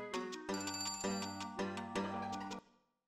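The 1,000-year-old bell in the video game Tomba! rings out in a bright, resonant chime, struck about five times in an even rhythm, then decays into silence.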